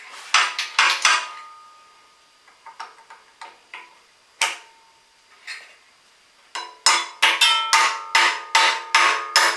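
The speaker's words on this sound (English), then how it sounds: "get a pair of pliers to straighten that out" Pliers work a bent part on the rear brake of a Honda Fourtrax 300, giving sharp metallic clicks and taps in irregular bursts, close and crisp, with quiet gaps between them.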